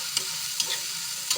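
Onions frying in a pan, a soft steady sizzle broken by a few brief scrapes as they are stirred.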